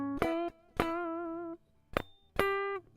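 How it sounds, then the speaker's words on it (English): Clean, undistorted electric guitar plays four picked notes with squealing pinch harmonics, bright overtone-rich tones ringing out one after another and decaying, alone with no talking. "You're going to play a pinch harmonic like that."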